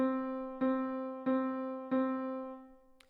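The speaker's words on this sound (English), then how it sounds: "A single measure of quarter notes would look and sound like this." A sustained, harmonically rich pitched note re-struck in an even pulse, four attacks about two-thirds of a second apart, each decaying slightly, with a faint click at the end.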